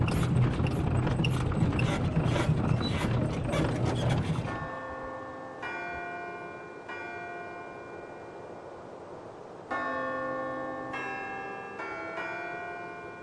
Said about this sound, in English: it's the ringer of the bells, and red is silent night, holy night.